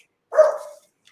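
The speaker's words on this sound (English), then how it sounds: "as soon as I start talking, it's barking" A single short, sharp dog bark, close and loud, in a quiet indoor room.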